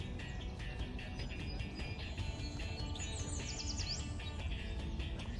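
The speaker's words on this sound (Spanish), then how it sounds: "Ahí están esos pajaritos otra vez. Bueno, ya escucharon." Small birds chirping outdoors, faint high tweets repeating over a steady background hum, with a brief cluster of rapid calls in the middle and no talking.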